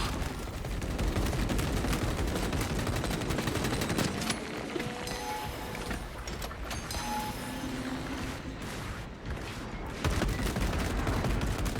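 Video game gunfire aimed at a Neurothrope, a dense, continuous rattle of rapid shots that eases off briefly in the middle, where beeping game tones come through, and then returns at full strength.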